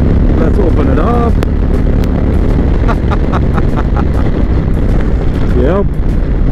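Steady loud road roar and wind rush from a 2018 Indian Chieftain Limited V-twin motorcycle accelerating at highway speed, continuous throughout with a faint rising tone and occasional wind buffeting.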